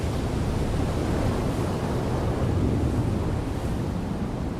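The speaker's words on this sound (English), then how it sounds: "his mother chooses a particularly rough surf day" Rough ocean surf rolls in a continuous, loud wash of broadband noise with gentle surges and no clear pauses, mixed with wind buffeting.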